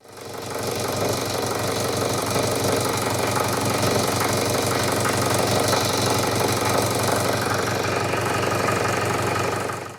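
A SAME Dorado tractor's diesel engine runs steadily at idle, a loud, even knocking rumble that holds constant for the whole stretch with no talking over it.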